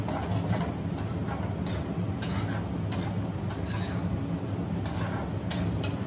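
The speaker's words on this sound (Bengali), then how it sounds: "তো এবারও মশলাটাকে খুব ভালো করে কষাতে হবে।" Spice masala being stirred and sautéed in a pan for a tribal traditional dish, a steady scraping, rasping texture with periodic sharper strokes repeating throughout, close and fairly loud with no talk.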